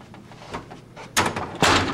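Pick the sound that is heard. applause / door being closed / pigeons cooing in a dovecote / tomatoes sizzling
door being closed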